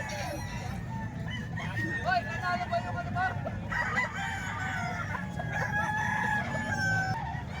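A rooster, a young stag, crows repeatedly over several seconds, mixed with clucking from nearby fowl, under a low background hum and faint voices.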